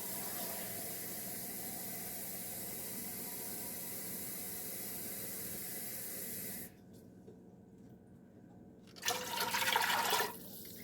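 Water pours steadily from a 2-cup measuring cup into a pot in a soft, continuous hissing stream that stops, then a brief louder splash of pouring follows.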